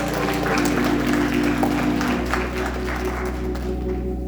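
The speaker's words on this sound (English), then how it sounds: "Let's give a hand clap of praise for those listening" Church congregation clapping hands in praise during a service, a sustained crowd of claps over a low steady hum, fading slightly toward the end.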